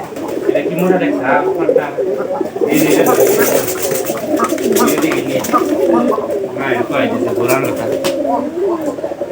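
Pigeons let loose inside a net enclosure coo and flutter close by, with repeated throaty calls and wingbeats while someone talks over them throughout.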